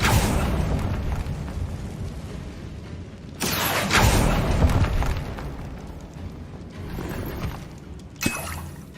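A Confringo spell explodes in the Hogwarts Legacy video game with a booming blast and a rumbling tail. A second, sharper burst follows a few seconds later over low, continuous game ambience.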